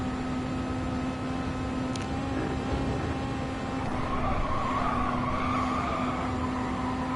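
Race car engine held at high revs, flat out, a steady loud drone with a sustained tone and a brief spike near two seconds, continuous with no talk over it.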